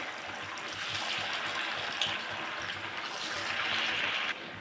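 A steady, bright sizzling hiss of coriander vadi pieces frying in hot oil over medium heat, continuous and fairly close, with no talking.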